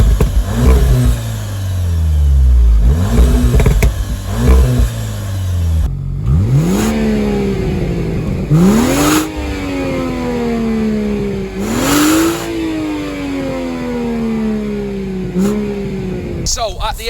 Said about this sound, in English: Jamal was in charge of revving the cars